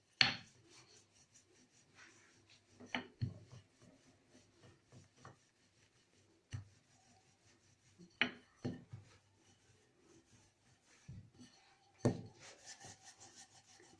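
Hand-folding of Moroccan chebakia dough, heard as faint, quiet rubbing and soft slaps in irregular bursts, close up with no talk.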